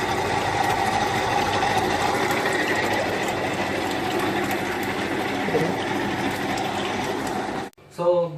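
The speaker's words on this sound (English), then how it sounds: "this blower fan suck in this housing air and flow into this room" An air cooler's blower fan drawing air through its housing runs with a steady, loud whirring drone throughout, then cuts off abruptly near the end.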